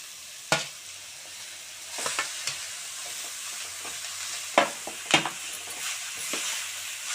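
Grated carrot in a pan with coriander and turmeric powder gives a soft, continuous sizzle, broken by several sharp scrapes and clinks as it is stirred, close by and with no talking.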